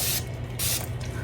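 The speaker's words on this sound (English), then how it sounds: "I just want to spray it." Two short bursts of a handheld spray hissing over a fresh resin mould to pop surface bubbles, close and fairly loud over a low steady mechanical hum.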